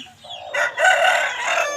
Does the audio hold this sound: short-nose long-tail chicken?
yes